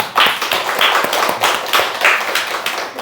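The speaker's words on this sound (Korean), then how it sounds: "우리 모태신앙들을 위해서 박수를 칩시다." A church congregation clapping together during a sermon, a close, loud burst of rhythmic claps in a steady beat lasting about three seconds.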